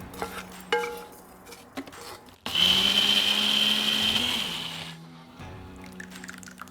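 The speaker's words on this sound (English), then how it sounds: "Once it's cooled down, I'm gonna put it in the blender." After some clinks and handling noises, a blender whirs loudly for about two seconds blending chili oil, its motor pitch shifting slightly, then stops and the clatter resumes.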